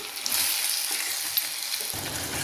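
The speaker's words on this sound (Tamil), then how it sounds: "எல்லாத்தையும் சேர்த்து கிண்டி விடுவோம்." Onions, tomatoes and salt stir-frying together in a pan for paneer seeraga samba biryani, a steady close sizzle with scraping stirs throughout, no talk.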